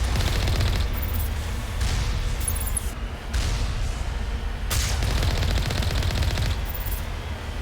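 Gunfire in the video game Mass Effect: a loud, dense stream of rapid shots and blasts in bursts, separated by brief pauses, with no voices.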